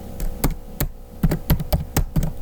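Typing on a computer keyboard, about ten crisp close keystrokes in an uneven rhythm, with a few rapid clusters and short gaps, alone without voices.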